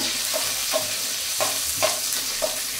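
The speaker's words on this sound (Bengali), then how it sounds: "রসুনগুলো হালকা ভাজা করে নেব।" Garlic sizzles in mustard oil in a hot wok with steady crackling, punctuated by regular scraping knocks of a spatula stirring, close and without speech.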